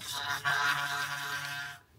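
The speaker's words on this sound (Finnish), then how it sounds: "Sähköhammasharjalla kun harjaatte," An electric toothbrush buzzes steadily against teeth during brushing, a continuous close-up motor hum with a brief surge partway through before it cuts off near the end.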